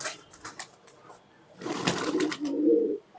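Rampuri pigeons coo in low, throaty murmurs, building toward the end, with faint voices and rustling in the background.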